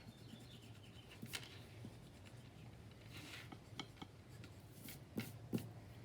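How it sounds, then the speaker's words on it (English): A pencil eraser rubs back and forth over paper while cleaning up stray lines on an interior room drawing, producing soft, close scratchy strokes in short bursts, quiet throughout with no talking. "Now I have these excess lines, and I'm just gonna erase those."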